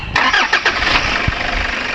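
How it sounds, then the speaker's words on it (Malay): A Toyota Vigo pickup engine cranks with a quick rhythmic starter chatter, catches, and settles into a steady, loud close-up idle. "Okey, coba start enjin, langkah terakhir Okey."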